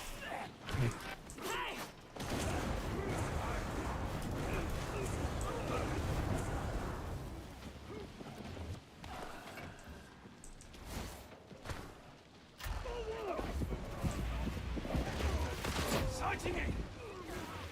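Gunfire in the co-op shooter Darktide, with rapid bursts of shots and mechanical clatter layered into a busy, continuous battle din under occasional voice lines.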